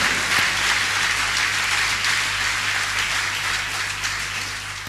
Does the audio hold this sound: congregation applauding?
yes